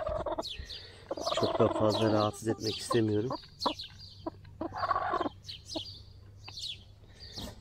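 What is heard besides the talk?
group of chickens in a garden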